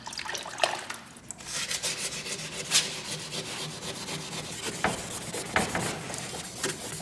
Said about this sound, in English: you just want to wet this area and start sanding it down